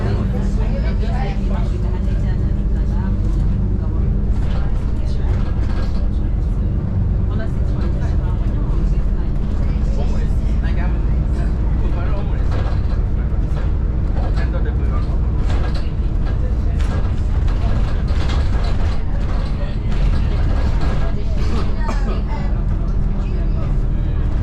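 A First Essex bus on route 371 drives toward Witham, its engine and road noise a steady close rumble throughout from inside the cabin, with people talking over it.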